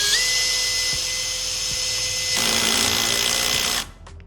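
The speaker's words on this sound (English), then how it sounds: "It's just gonna keep making that ratchet sound." A power drill with its torque clutch set low keeps ratcheting after a screw stops sinking into wood, a steady whirring buzz with rapid clicking that grows harsher partway through, then cuts off near the end. Close and loud, no talk.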